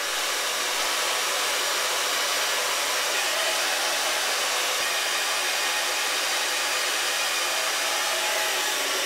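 A hair dryer blows steadily while bangs are dried, a loud continuous broadband whoosh held close and unbroken throughout, with no talking.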